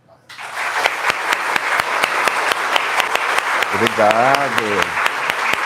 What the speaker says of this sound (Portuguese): quero pedir a todos vocês calorosas palmas